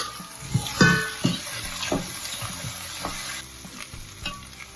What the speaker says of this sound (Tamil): இனி நாங்கள் கடலையை போட்டு மிக்ஸ் பண்ணுவோம்.